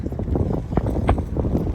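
Strong wind buffets the microphone outdoors along Route 66 between Shamrock, Texas and Gallup, New Mexico, a close, loud gusty roar with uneven bursts throughout.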